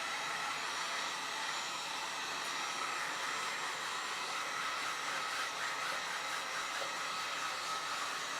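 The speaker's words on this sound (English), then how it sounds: "one thing to point out with the heat gun, you sure don't want to hold it in one spot for very long" A heat gun blows continuously while waterproofing canvas, giving a steady, even, close whooshing hiss that holds at one level throughout with no voices.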